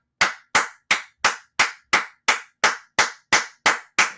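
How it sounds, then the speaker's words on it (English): One person claps about a dozen times at an even, steady pace, each sharp, close slap separated by a short silence. "I am applauding the Golden State Warriors for getting a win over the Sacramento Kings"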